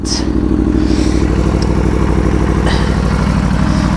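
An Aprilia Tuono motorcycle engine idles close by, a steady, loud, even mechanical thrum running unbroken throughout with faint clatter on top.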